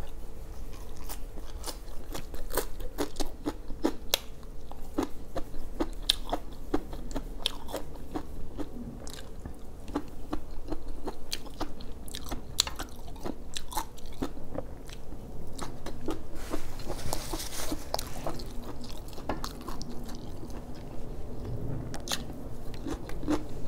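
Close, wet chewing and crunchy biting of Thai koi, a raw meat salad, with steady mouth clicks and squelches repeating throughout and no talking.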